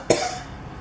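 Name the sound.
cough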